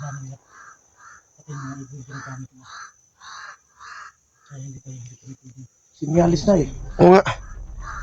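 Raucous crow-like bird calls repeat in short bursts over people talking, with a sharp band of high chirping running throughout.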